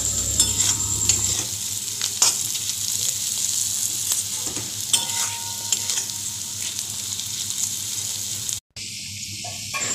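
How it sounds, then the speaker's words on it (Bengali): Ginger paste, chillies and spices with turmeric, salt, sugar and splashes of water sizzle and fry steadily in a pan, with intermittent scraping of stirring throughout and a brief pause near the end. "একটু জল দিয়ে দিয়ে আমি কষাবো"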